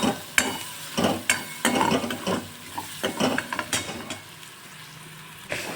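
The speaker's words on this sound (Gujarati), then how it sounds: "ડુંગળીને હું ગોલ્ડન બ્રાઉન સુધી હલાવી લઈશ" Onions frying in a pan for dhaba-style malai paneer masala are stirred toward golden brown. A utensil scrapes and clinks against the pan in a steady, irregular rhythm over a continuous close sizzle.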